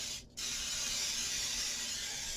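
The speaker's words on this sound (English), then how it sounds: "So we're going to use some spray oil. We're just going to grease it." Cooking oil spray sprays into a loaf pan in one brief hiss, then a steady spray carries on close by after a short pause.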